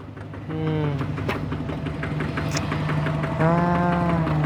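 A rough, knocking homemade tractor-style engine idles steadily nearby, its low rhythmic chug continuing throughout with a slight rise in loudness partway.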